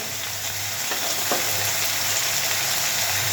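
Spices for aloo gobi sizzle and fry in a pan over high gas, a loud, steady hiss that fills the space close up, with a couple of faint stirring taps.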